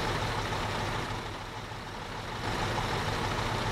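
A truck engine runs steadily in the construction game Bau Simulator 2015, a loud continuous low rumble with a slight dip in level midway before returning to full strength, no voices present.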